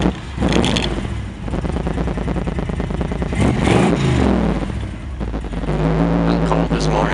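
A 1954 Packard Clipper fitted with a built AMC V8 of roughly 350-360 cubic inches cranks and fires on a cold morning, then settles into a loud, lumpy rumbling idle with clattery revs close by.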